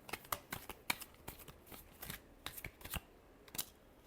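Tarot cards shuffled by hand, a quick run of crisp riffling flutters and soft slaps in uneven bursts, close and quiet with no talk.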